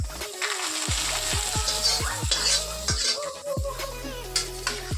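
Fried garlic is poured over baby potatoes and mixed for a mashed chili potato dish: repeated rhythmic scraping stirs with a soft sizzle underneath, close and fairly loud, with no talking.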